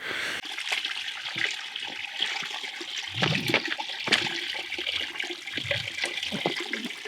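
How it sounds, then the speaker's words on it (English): Steady rushing water flows throughout, with splashing and gurgling bursts rising and falling close by. "I didn't even realize there was running water up here."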